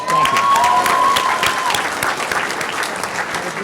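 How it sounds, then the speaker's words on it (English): Loud, dense applause from a crowd at a school graduation ceremony, steady at first and then gradually tapering off, with a few whoops rising above the clapping. "give her a round of applause"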